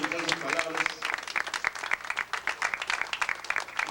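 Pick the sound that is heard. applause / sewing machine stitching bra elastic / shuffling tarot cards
applause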